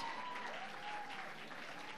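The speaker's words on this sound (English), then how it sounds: "Let's give them a round of applause as we see our" An audience claps for the nominees at a Teacher of the Year ceremony, a faint, even patter of applause lasting about two seconds.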